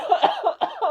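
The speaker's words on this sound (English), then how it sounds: "this is the reason you started coughing" A person coughs in a quick run of three or four short, harsh bursts, close and alone.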